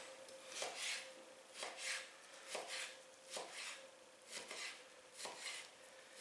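A knife slices through frozen bacon in slow, regular strokes, each one a soft scraping rasp ending in a light tap on a cutting board.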